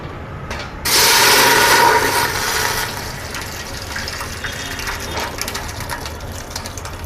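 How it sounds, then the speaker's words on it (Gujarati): Water is poured into soaked sabudana (tapioca pearls) in a pan on a gas stove while making sabudana-potato ganthiya: a loud, close rush of pouring that starts suddenly, lasts about two seconds, then fades into a softer, steady trickle. "આપણે થોડુંક પાણી નાખીશું વધારે નહીં નાખીએ"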